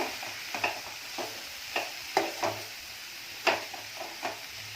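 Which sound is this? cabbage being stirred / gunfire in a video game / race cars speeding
cabbage being stirred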